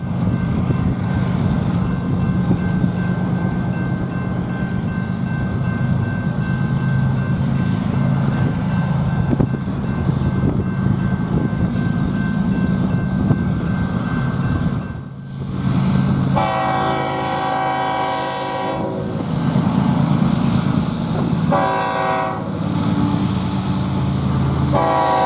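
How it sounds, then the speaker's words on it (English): BNSF 8189, a freight train led by a BNSF H1 unit and a CSX unit, rumbles steadily past at Daggett on the Southern Transcon, then a loud multi-tone horn blasts in repeated sounds near the end. "Our next train was BNSF 8189."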